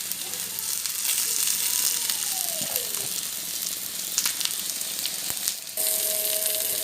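Ghee heating and frying in a frying pan, a steady bright sizzle filling the clip, with small clicks and a brief whistling tone rising over the crackle.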